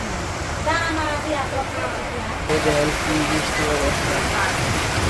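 Steady rain hisses throughout, a broad wash of falling water, with voices talking over it.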